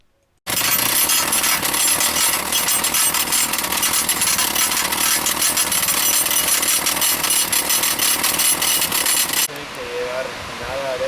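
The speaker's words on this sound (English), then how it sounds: "The drill continued to work as we drilled a series of holes" A rock drill bores anchor holes into rock at a bridge-building site in Torres del Paine, a loud continuous hammering whine running unbroken for several seconds before stopping abruptly, followed by faint voices.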